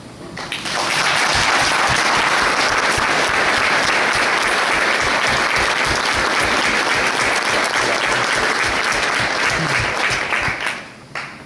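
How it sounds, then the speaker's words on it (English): A large audience applauds after a speech, a dense, loud, sustained wash of clapping that stays at full level for about ten seconds before tapering off at the end. "I hope that round of applause was directed to yourselves, because you do deserve it."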